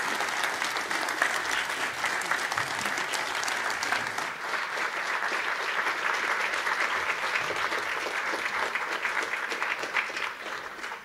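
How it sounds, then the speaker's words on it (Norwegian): Warm, sustained applause from an audience at a community panel meeting fills the whole stretch at an even, dense level, with no pauses. "først så vil jeg at vi gjør Ida og Kristine en varm applaus"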